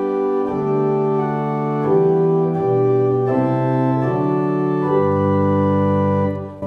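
Pipe organ with the 8-foot and 4-foot principal stops drawn together, a fuller, richer tone moving through slow sustained chords and held notes; loud and close, no voices.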